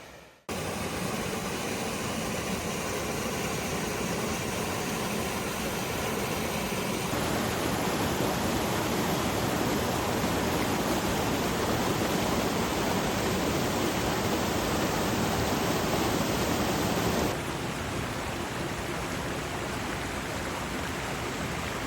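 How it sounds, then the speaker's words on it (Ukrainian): Mountain waterfall in the Gorgany range of the Carpathians, a loud, steady roar of falling water that fills the whole clip with constant broadband rush, changing only slightly in tone as the listener moves closer. "А ось там і водоспад."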